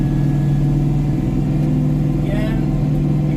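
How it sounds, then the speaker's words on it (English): A tractor engine running up to PTO speed to drive an offset flail mower outdoors, a loud steady low drone with a slight rise in pitch, and someone talking over it. "Start her back up. Back up to RPM or the PTO speed."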